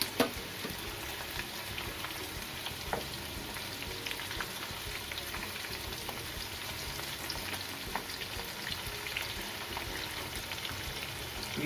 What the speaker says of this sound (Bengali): আমি এইভাবে এগুলোকে সুন্দর করে ফ্রাই করে নিচ্ছি